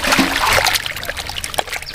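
Water is poured slowly in an outdoor village kitchen while taro root and tiny fish curry is being prepared, a close trickle and light splashing that eases off after the first moments.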